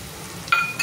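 Chole masala spices with turmeric and goda masala frying in a pan, a soft steady sizzle with a brief brighter hiss near the end, short and fairly quiet.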